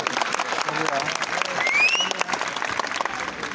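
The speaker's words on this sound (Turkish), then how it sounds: "askerlerimiz de daha çok alkış hak ediyorlar." Crowd applause from a public gathering of local residents, steady and dense throughout, with a voice carrying over it partway through.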